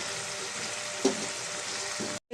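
Onions fry with salt and turmeric in a covered pan, giving a steady soft sizzle with a single brief clink partway through before the sound cuts off abruptly.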